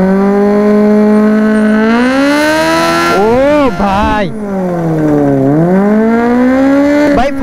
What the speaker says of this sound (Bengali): এখন রাজুর বাইকে বার্ন আউট মারা হবে।